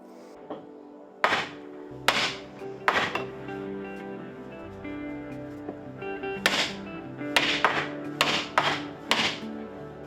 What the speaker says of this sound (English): I like wooden oyster boats, mostly because you can go at it with a sledgehammer.